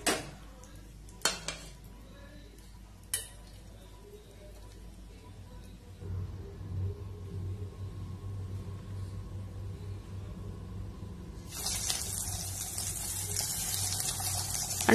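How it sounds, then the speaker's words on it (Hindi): Boiled eggs marinated with turmeric and salt fry in oil. A few utensil clanks come first, then a low rumbling hum, and a bright, steady sizzle swells up over the last few seconds. "अभी मैं अंडे को फ्राई कर लूँगी।"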